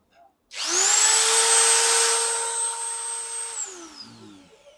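A Japanese grinding machine salvaged from an old ship starts up with a sharp whining rise, runs at a steady high-pitched hum for about three seconds, then spins down as the tone drops away.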